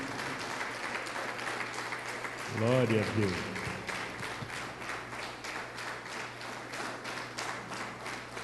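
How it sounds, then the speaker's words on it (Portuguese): Church congregation applauding during a worship service, a steady spread of clapping throughout, with a voice calling out in praise near the middle over the clapping. "já dá para Deus uma salva de palmas em nome de Jesus"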